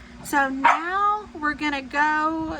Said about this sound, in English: That's my dog barking back there